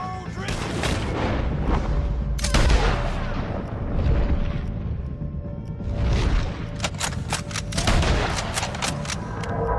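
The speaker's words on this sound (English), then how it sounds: "Take a shot on these O'Driscolls!" Gunfire rattles through a shootout in the video game Red Dead Redemption 2, with repeated overlapping shots and booms in loud bursts across the whole stretch, and voices shouting faintly beneath.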